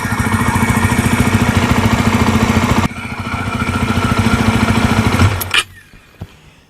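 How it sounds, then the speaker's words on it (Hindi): Close-up idling of a 2025 Yezdi Roadster motorcycle engine, a steady loud pulsing chug that dips partway through, then cuts off abruptly near the end, followed by faint mechanical ticks and quiet. "और एक बार इसका इंजन नॉइज भी सुन लीजिएगा।"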